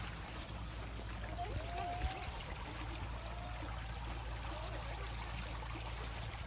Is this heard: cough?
no